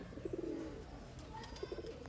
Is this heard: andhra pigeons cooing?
yes